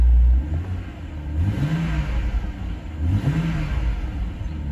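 A 2011 BMW 328i xDrive engine with about 157,000 miles idling smoothly, then revved twice in quick swells that rise and fall, heard close with no talking.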